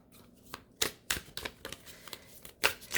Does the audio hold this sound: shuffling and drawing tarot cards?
yes